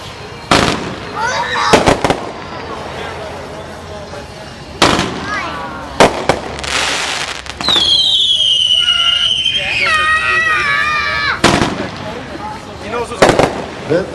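Just Shoot Me, a 500 gram firework cake, fires a string of sharp bangs and crackles followed by whistling, crackling effects, with people talking between shots.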